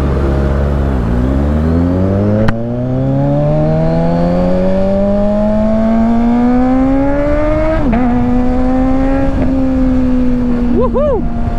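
A Kawasaki Ninja 1000 sport-touring motorcycle pulls away loudly, its inline-four engine note climbing steadily through the gears with a brief shift and a few quick throttle blips near the end, close and unaccompanied by talk.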